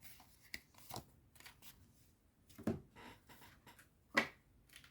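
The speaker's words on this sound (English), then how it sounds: "This deck is so hard to shuffle." A stiff tarot card deck being shuffled by hand, a few soft, sparse riffles and slaps with sharper flicks near the middle and end, close and quiet with no talking.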